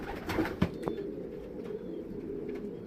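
A flock of Dutch racing pigeons in a coop, low continuous cooing from many birds at close range, with a couple of brief louder knocks or wing sounds early on, no talking.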